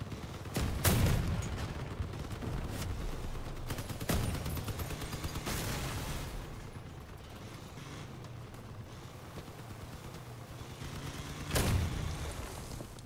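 Cannons fire from armored vehicles in the video game Crossout, several heavy booms spaced irregularly over a constant rumble of engines and battle noise.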